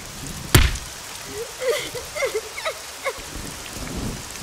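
Steady rain patters in the background in the video game AI: The Somnium Files, broken by a sharp thud early on and short vocal-like chirps over the downpour.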